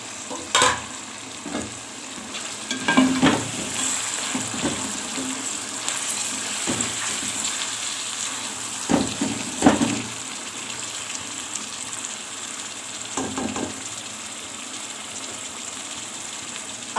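Boiled chicken and potatoes fry in a pot of masala pulao, a continuous sizzle broken by scraping stirs and clattering spoon knocks against the pot.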